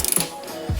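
A small torque wrench ratcheting while servicing a Ford Mustang, a quick run of close, crisp clicks followed by a brief pause and a few more clicks.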